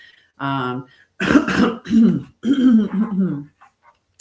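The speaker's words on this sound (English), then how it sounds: "Clear my throat so I can read." A person clears their throat several times up close, rough and gravelly bursts following a short hummed sound.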